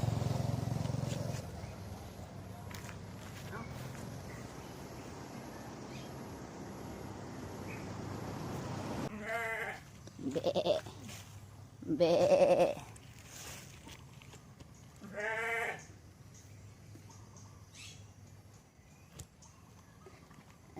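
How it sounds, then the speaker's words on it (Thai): Goats on a farm bleat in several loud, wavering calls, spaced a few seconds apart and close by, over a low background rumble with faint passing traffic. "นี้ก็ไม่ใช่แพะตัวเองนะคะเป็นแพะคนอื่น"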